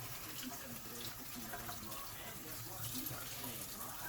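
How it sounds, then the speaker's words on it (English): Brined meat being rinsed under running water from a tap, a steady close splashing rush filling the whole clip. "you want to rinse this. Get the heavy aspects of the brine off it."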